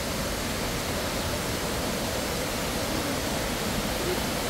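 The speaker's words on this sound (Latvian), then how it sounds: "vieni ūdenskritumi" Waterfalls at Plitvice Lakes pour in a continuous dense roar, loud and close, steady without any break or change.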